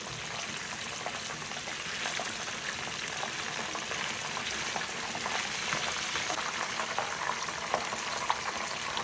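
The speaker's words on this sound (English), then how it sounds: "Fish beautifully fried now, ready to come out of the oil." Red snapper frying in hot oil with a steady, dense sizzle and bubbling that holds evenly throughout, close and fairly loud, with no talking.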